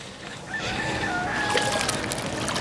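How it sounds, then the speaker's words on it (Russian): Roosters crow at a rural fishing spot, thin drawn-out calls rising over a steady outdoor background hiss, moderately distant and overlapping toward the end. "Куры кукарекают"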